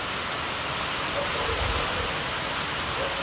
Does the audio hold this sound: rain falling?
yes